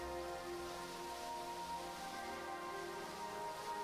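Rain in the space-program game Mars Horizon falls as a soft, steady patter, faint and even throughout, layered over a low sustained musical drone.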